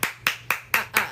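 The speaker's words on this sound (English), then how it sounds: "round of applause" A single person claps hands five times at an even, brisk pace, each clap crisp, close and loud with no other sounds around it.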